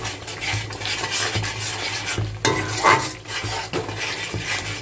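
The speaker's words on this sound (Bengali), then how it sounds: "এবার মশলাটা আমাদের ভালো করে কষিয়ে নিতে হবে।" Masala for Bengali chicken korma being stirred and fried in a pan with a little warm water, a steady scraping of a spoon against the metal over soft continuous sizzling, close and moderately loud.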